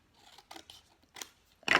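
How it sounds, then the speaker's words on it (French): Scissors cutting paper labels in two: a few sharp, close snips separated by short pauses, the last cut the loudest. "Donc je vais couper les étiquettes"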